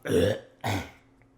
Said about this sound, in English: I burped, like I couldn't control it